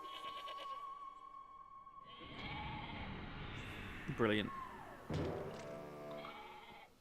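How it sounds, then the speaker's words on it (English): Sheep bleating in the video game Okami HD, several wavering cries in a row over game sound, with a player talking briefly between them. "Yeah, it's a sheep."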